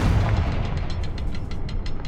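A Confringo fire curse blast in Hogwarts Legacy hits as a heavy, close boom, followed by a dense rumble and rapid crackling bursts over about two seconds.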